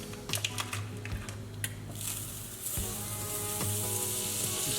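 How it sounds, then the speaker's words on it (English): Butter, about a third of a stick, dropped into a hot pan and sizzling, building from scattered crackles into a steady loud hiss over several seconds, with faint tonal hum underneath. "So I'm gonna take about 1/3 of a stick of butter. Drop it in the old pan."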